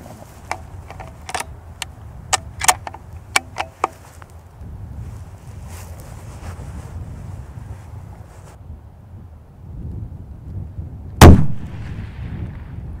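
A single loud rifle gunshot cracks out during a grizzly hunt in open, windy country, following a series of sharp clicks and knocks, with wind noise and a faint rumble after the shot.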